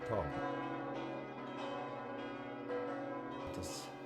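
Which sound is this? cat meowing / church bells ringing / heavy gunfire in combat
church bells ringing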